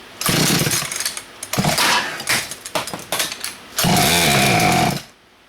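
A Craftsman 16-inch chainsaw pulled from a junk pile, throttle stuck, roaring loud and close in several revving bursts, then a long sustained high run before it cuts out abruptly.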